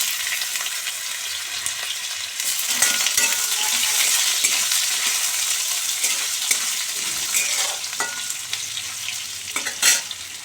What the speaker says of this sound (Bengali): আলুগুলো দিয়ে দেবো, দিয়ে ভেজে নেব একটু আলুগুলো।